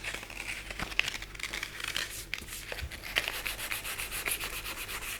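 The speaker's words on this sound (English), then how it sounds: "Sometimes you can use your hand to sand the part" Steady hand sanding of a primed car part, continuous close rasping and rubbing strokes in an even rhythm, with no voices.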